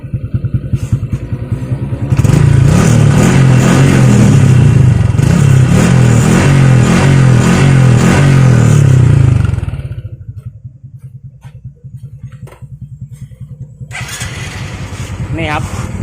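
Honda Wave 125i motorcycle fitted with an aftermarket open exhaust revs loudly and close by, holding a steady high-revving roar for several seconds before dropping to a lower idle rumble, with a brief rise again near the end.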